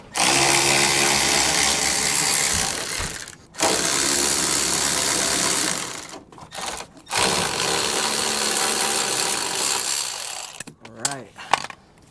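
A ratchet turning a 13 mm socket on a 10-inch extension loosens oil cooler bolts on a BMW M4 Competition, giving loud, sustained mechanical clicking bursts separated by short silences, with a faint voice near the end.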